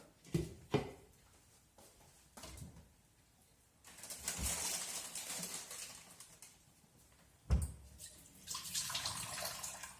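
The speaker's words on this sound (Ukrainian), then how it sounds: "Хоч вона в нас помало та вода тече" Water running from a tap in a rural home, a thin, modest flow heard in uneven bursts between quieter gaps, with a few clatters in the room.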